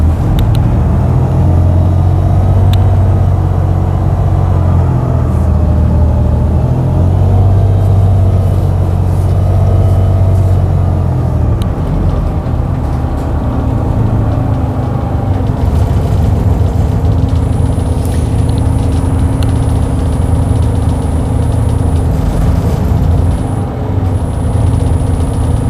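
Transperth bus 2250 on the Karrinyup route at Stirling Station, a loud, steady low diesel rumble close by with pulsing idle tones shifting over time and a thin high whine near the end, no talk.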